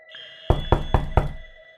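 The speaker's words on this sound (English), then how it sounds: "He knocked." Four firm knocks on a door in quick, even succession, close and hollow-sounding, over a faint steady hum.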